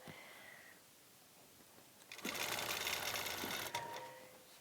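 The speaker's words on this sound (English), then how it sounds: "Now I'm sewing just the very edge of this plaid, buffalo plaid here." A sewing machine runs a short, steady burst of stitching along the very edge of buffalo plaid fabric for a minky quilt. A quiet hum comes first, then a close, even whir for about a second and a half that stops abruptly.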